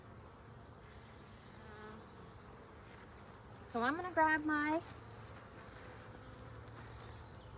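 Many bees buzzing in an open hive, a steady close drone underneath, with a short burst of sharper rising pitched tones in the middle and a person speaking briefly.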